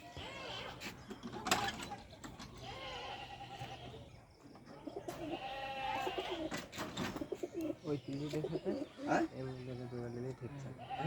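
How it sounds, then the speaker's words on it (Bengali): Domestic pigeons coo in a household loft, with repeated soft throaty calls close by under ongoing conversation and a few mechanical clicks. "ভাইয়ের ঘরে যে কটা পয়রা আছে সেরা সেরাই পায়রা"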